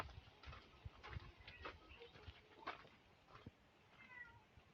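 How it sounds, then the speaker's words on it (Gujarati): A cat meows a few times from inside an abandoned old palace ruin in Roha village, the short calls faint and distant over a rustling background. "અંદર બિલાડીનો અવાજ પણ આવે છે"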